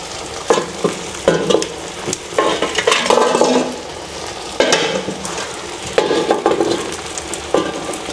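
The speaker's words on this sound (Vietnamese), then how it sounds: "Đấy nó khuấy khuấy đi." Food is stirred in a large cooking pot with a stick, giving scraping, sloshing strokes in irregular bursts with a sizzling, frying undertone, close and fairly loud with no talking.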